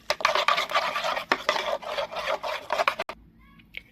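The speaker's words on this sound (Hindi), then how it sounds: "और अच्छे से इसे अभी मिक्स कर लेते हैं।" A spoon briskly stirs a spice masala marinade for chicken tikka in a bowl, making rapid close scraping and rubbing strokes in an uneven rhythm that stop abruptly near the end.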